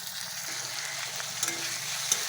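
Ginger-garlic and onion paste fries in a pan with a steady, close hiss, and a couple of sharp spatula scrapes cut through near the end.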